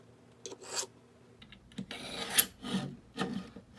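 Knife blade drawn repeatedly through a Work Sharp Pivot Series knife sharpener, close-up raspy scraping strokes in an irregular series of about six pulls, with no talking.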